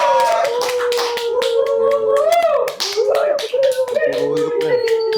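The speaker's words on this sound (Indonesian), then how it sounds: "Kita sambut Bang Vendabi Surya Putra. Tepuk tangannya, guys." A crowd claps to welcome a guest onto a talk-show set, quick clapping mixed with cheerful voices and background music, steady and close throughout.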